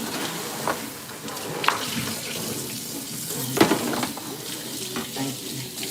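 Water is poured out of a cooking pan into a kitchen sink, splashing and running for several seconds with a few sharper clanks and bumps in a domestic kitchen.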